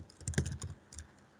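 Keys clatter in a short burst on a computer keyboard while a web developer types a command to open a Vue project; the clicks are close and crisp, with no talking over them.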